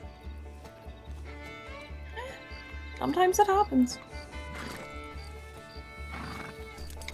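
A horse whinnies loudly in the middle over steady clip-clopping hooves and background music in a Western roleplay game, with a person speaking briefly.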